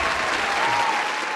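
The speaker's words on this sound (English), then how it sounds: "give him a round of applause, right?" An audience claps in sustained, even applause that holds steady and loud for its whole length, a dense crowd patter with no voices standing out.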